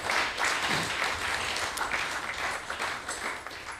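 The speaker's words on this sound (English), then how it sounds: "Let's give them a big round of applause, please." A temple congregation at a Sunday ISKCON gathering applauds its serving team, producing a fairly quiet, continuous patter of many hands with a roomy, distant quality and no voices over it.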